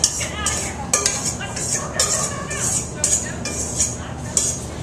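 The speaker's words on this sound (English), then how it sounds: "Stir this up. Try not to break up the mushrooms." A spoon stirs mushrooms in a pot during a cooking demo, giving repeated gentle scraping clinks against the metal in a steady rhythm, close and fairly loud, over a constant background hum.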